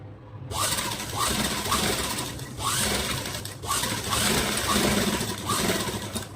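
A sewing machine stitches a princess cut blouse in rapid bursts, its mechanical clatter swelling and easing in a rhythmic pattern, close by at night with faint background noise.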